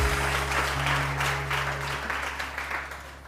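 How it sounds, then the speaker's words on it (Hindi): A burst of studio audience applause on a TV morning show, many hands clapping together, fading slightly toward the end. "यार इनके लिए बहुत सारी तालियां भाई,"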